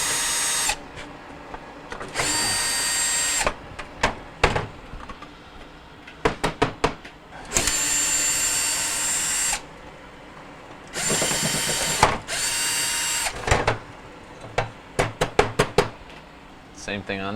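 A power drill loosens iced-up screws on the wall bracket inside a Frigidaire refrigerator being repaired for not cooling, running in several loud bursts of a few seconds each with short pauses between and clicks in the gaps.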